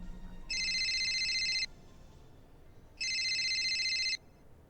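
Phone ringing in the video game Steins;Gate, two bright electronic ring bursts about a second long each, separated by a pause, loud and close over a faint background hum.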